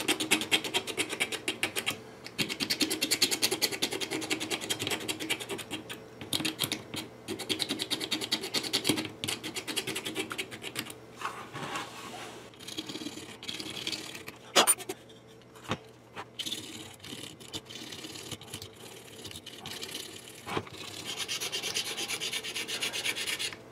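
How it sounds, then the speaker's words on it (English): A razor blade scrapes the fretboard of a custom guitar kit clean in long, continuous, raspy strokes close to the microphone, with a few brief pauses and no speech. "I always take a razor blade and clean my fretboard up with it before I put any oil or anything else on it"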